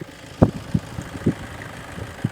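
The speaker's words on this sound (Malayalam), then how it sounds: "ഇപ്പൊ വണ്ടി സ്റ്റാർട്ടിങ്ങിലാണ് നോയ്സും കാര്യങ്ങളൊക്കെ ഞാൻ നിങ്ങൾക്ക് കേൾക്കാൻ പാകത്തിന് ജസ്റ്റ് ഒന്ന് എടുത്തേക്ക് കൊണ്ടുപോവാം" A Toyota Innova Type-4 idles just after starting, a low, even engine hum with soft rhythmic knocks and clicks repeating every half second or so, heard close and alone.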